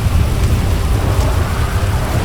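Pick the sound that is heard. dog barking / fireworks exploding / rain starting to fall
rain starting to fall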